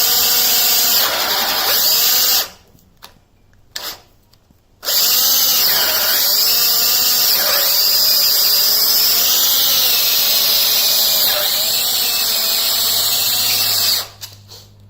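A power drill bores holes in wood for a slackline hang frame, a loud close whine that runs steadily, cuts out briefly, starts again and then stops near the end.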